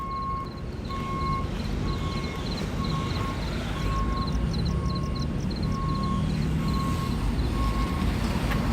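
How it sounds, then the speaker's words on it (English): A fire truck pulls away on a Los Angeles street at night, its reversing beeps pulsing in a steady repeated pattern over loud, constant engine and traffic rumble. "So one fire truck is already bugging out down there."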